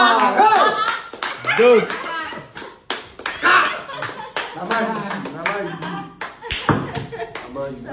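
Several people clap their hands in short, sharp bursts, scattered among excited voices talking and exclaiming close by.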